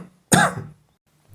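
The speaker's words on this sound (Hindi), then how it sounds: "सॉरी, थोड़ा सर्दी खांसी है।" A single sharp cough from a person with a cold, close and clear, sitting alone between stretches of near silence.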